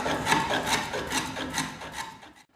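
Hand plane shaving across a piece of timber held in a vise, a series of rhythmic rasping wooden strokes, close and fairly quiet, fading out at the end.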